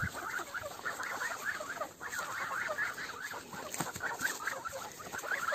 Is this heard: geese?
yes